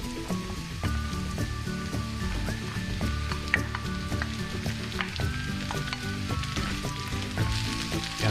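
Chopped bottle gourd (upo) sizzles steadily in a pot of hot liquid as it cooks, a continuous frying hiss with occasional faint clinks and a background tone, with no talking.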